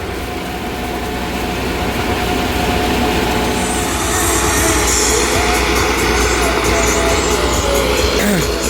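A Farmtrac 6065 4WD 65 HP tractor, a 2018 model, runs steadily while mulching a banana field, producing a loud, dense, continuous engine roar with broadband mechanical noise that holds throughout at close range.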